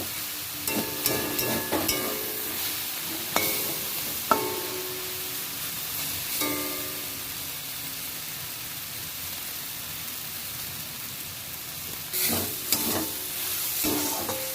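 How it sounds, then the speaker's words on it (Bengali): Water spinach (kolmi shak) fries in a pan, a continuous soft sizzle broken by repeated clinks and scrapes of a spatula stirring, some clustered near the start and end, with no voices. "এবার ভালো করে ভেজে নেব।"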